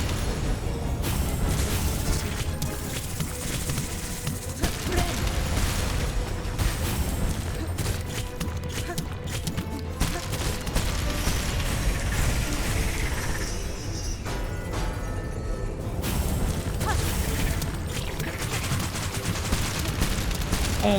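Explosions and rapid bursts of combat noise fill the action in the video game Silksong, a continuous loud barrage of booms and popping impacts with no pauses for the whole stretch.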